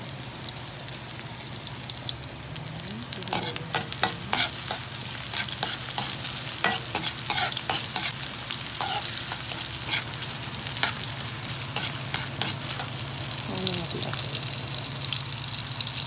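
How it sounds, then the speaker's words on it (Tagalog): Garlic and onion sauté together in a hot pan for a Filipino vegetable dish, giving a steady close sizzle and crackle throughout with scattered stirring scrapes and no talk. "Sabay-sabay ko na yung bawang at saka sibuyas."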